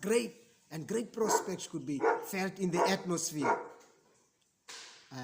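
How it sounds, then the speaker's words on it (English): A dog barks and yips excitedly in several quick bursts, somewhat muffled as if outdoors, with someone speaking over it. "You can hear there's one of our dogs outside just getting excited"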